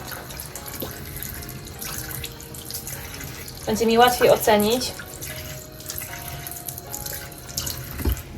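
Tap water runs into a sink, rinsing the roots of an alocasia plant. The steady splashing flow continues throughout, with a louder burst of splashing midway and a short stretch of talking over it.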